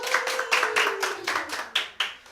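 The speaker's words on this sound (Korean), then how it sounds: "우리 환영하고 박수하겠습니다" Church congregation clapping in welcome for a visiting navy ensign at a Sunday service, about eight or nine loud, rhythmic claps in quick succession with a sustained tone fading beneath them.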